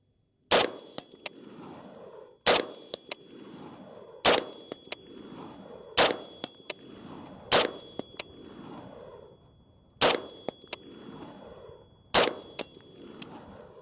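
Rifle shots fired one at a time at a 115-yard target, seven sharp, loud cracks at steady intervals of about two seconds, each trailing off in an outdoor echo, with a faint ringing tone from the distant steel target.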